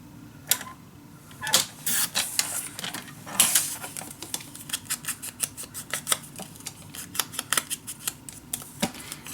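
Paper being cut with scissors for an Alice in Wonderland mini album, a close run of crisp snips that start spaced out and then come quickly and evenly, with no voices.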